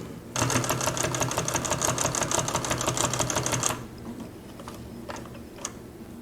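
Consew 339RB-4 sewing machine stitching a tension test, a loud, fast, even rattling run for about three seconds that stops abruptly, followed by a few faint clicks and handling sounds.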